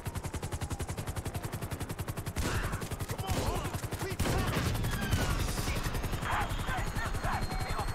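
Rapid automatic gunfire in GTA V fired at a helicopter pilot, steady fast bursts throughout, with helicopter rotor noise and other game sounds building beneath.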